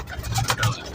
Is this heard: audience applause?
no